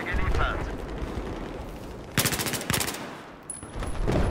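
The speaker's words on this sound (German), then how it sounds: "ich werde schon wieder angesniped" Sniper gunfire in Battlefield 4 multiplayer: a couple of loud, sharp shot bursts land midway through, set against a constant rumble of battlefield noise.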